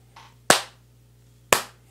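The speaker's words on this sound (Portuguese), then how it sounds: "Palmas, né? Tem que dar palmas." Two sharp, loud single hand claps land about a second apart in a quiet room, each ringing briefly before fading, with a faint softer tap just before the first.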